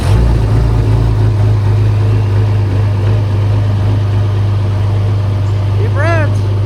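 A heavy truck engine rumbles at a loud, steady idle after starting on a snowy day, close up, with a brief voice rising over it near the end.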